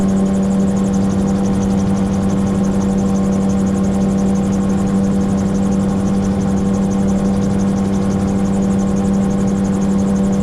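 A gyrocopter's engine drones steadily in flight near Crosland Moor, a loud, constant hum with a strong low tone and whirring rotor noise that never changes throughout.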